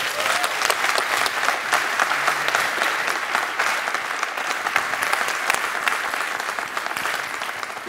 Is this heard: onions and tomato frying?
no